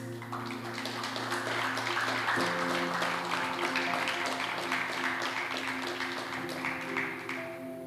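A congregation at a Sunday church service claps steadily and densely over held keyboard chords, the applause sustained throughout and moderately loud.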